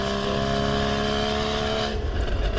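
A 2015 Porsche Boxster 981 flat-six at full throttle in third gear, with a loud, steady, rising engine howl that holds close and then drops away abruptly as the throttle lifts.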